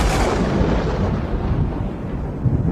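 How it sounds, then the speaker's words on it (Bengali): A cartoon thunderstorm with lightning flashing, heard as a loud, sustained low rumble of thunder that fills the whole clip and slowly fades, with no voices. "এদিকে বারবার বিদ্যুৎ চমকাতে আরম্ভ করলো"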